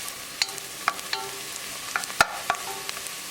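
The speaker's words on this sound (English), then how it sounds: "Keep it moving and keep cooking until the onions are nicely translucent." Onions frying in a pan while being stirred, a soft steady sizzle broken by scattered scrapes and clicks of the spoon against the pan, close and fairly quiet, with no talk.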